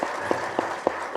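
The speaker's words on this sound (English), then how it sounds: "I think your presentation got maximum claps" Audience applause at a university graduate school convocation: steady clapping from a crowd fills the room, with a few sharper individual claps standing out above the wash.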